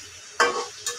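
Two quick scraping stirs of cauliflower and potato curry in a pan, a louder sweep followed by a shorter one, close and faint with soft sizzling between.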